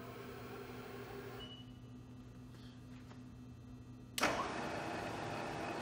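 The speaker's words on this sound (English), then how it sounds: "Spindle is on." A machine spindle on a GMT 1750 spins up abruptly after a steady hum, turning into a loud, sustained broadband whir that continues to the end.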